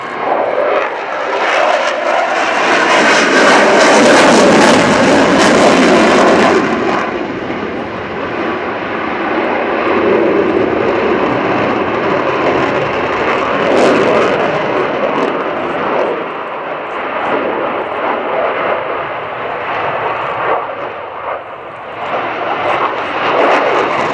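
A military jet performs a flying display at the RIAT airshow at Fairford, its engine roaring loudly as it passes, then fading to a sustained distant rumble that swells again toward the end.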